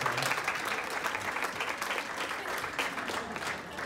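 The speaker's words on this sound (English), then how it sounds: "Give them a round of applause for winning our champagne." Moderately faint, steady applause from an audience at a pharmacovigilance conference, a continuous patter of many hands with no voices.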